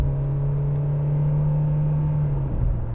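2015 Mercedes-Benz C200 with a 1.6-litre engine accelerating, heard from inside the car as a steady, loud engine drone and road rumble that holds almost unchanged, easing off slightly at the end.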